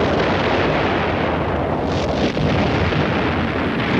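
A massed artillery barrage from nearly a thousand guns, a continuous loud rumbling roar of overlapping blasts with no gaps, heavy and dense throughout, like an old wartime recording.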